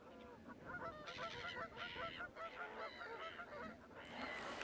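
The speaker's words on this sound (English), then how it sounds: "I think they're greylag." A pair of greylag geese honk repeatedly beside a Yorkshire reservoir, their harsh, overlapping calls loud and close with a steady outdoor background.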